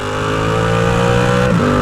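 A Yamaha R7 60th anniversary sport motorcycle with a restricted 0.7-litre engine accelerating uphill, a loud steady drone that rises and holds, then shifts briefly near the end before pulling on.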